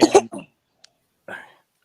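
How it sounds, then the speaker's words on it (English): A person coughs a couple of times in quick succession up close, then after a pause gives a softer, rougher cough. "When you cough, you don't have to take yourself off camera."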